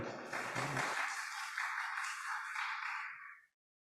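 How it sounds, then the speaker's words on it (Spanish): At a book colloquium, an audience applauds a doctor coming up to speak, a dense wash of clapping for about three seconds before it cuts off abruptly into silence. "Recibamos con un aplauso al doctor Víctor Vélez Moro"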